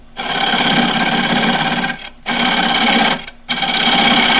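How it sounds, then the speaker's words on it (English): A slightly radiused woodturning scraper cuts a wooden tray on a lathe, a loud, steady whirring hum that runs continuously and briefly drops out twice, with no voices. "I'm now going to do most of this with the scraper."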